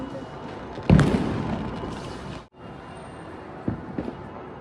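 Diwali firework shells burst around a neighbourhood at night: one sharp, loud boom followed by a decaying rumble, then smaller pops and crackles a few seconds later.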